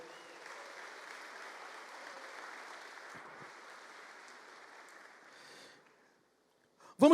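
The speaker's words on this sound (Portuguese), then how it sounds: "dê um aplauso bem forte ao Senhor" A church congregation at Paz Church Santarém gives a soft, fairly distant round of applause that thins and fades out, followed by a short silence before a voice starts speaking.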